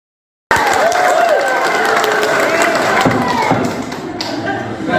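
A packed courtroom at a pretrial hearing in Bandung's district court erupts in loud, continuous crowd noise after a brief silence, with shouting voices, clapping and thumps blending into a rowdy din that eases slightly toward the end.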